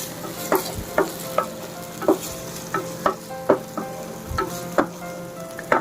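Chicken frying in a pan for a coconut milk rice and crispy chicken fry dish, with a steady sizzle broken by a series of sharp, regular scrapes and clacks from stirring, close and clear with no talking.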